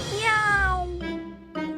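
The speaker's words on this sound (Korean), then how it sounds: "야옹! 고양이가 나타났어요." A cat meows once in a clear, close, drawn-out call with a falling pitch, then gives a shorter second call, alone without talk.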